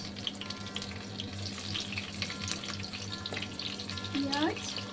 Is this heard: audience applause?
no